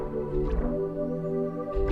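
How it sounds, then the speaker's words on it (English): Aqua Mallet synth patch from Alchemy, a soft watery mallet tone with sustained resonant notes swelling and fading over about two seconds, played alone and close. "I'm gonna start off this beat using this sound called Aqua Mallet right here"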